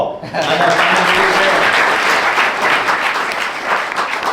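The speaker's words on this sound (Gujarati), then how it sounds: "આપણા નીલકંઠ ભગતને તાળી પાડો" An audience at a religious festival gathering bursts into loud, sustained applause for Nilkanth Bhagat, a dense wash of clapping that starts sharply and holds steady, with voices faintly mixed in.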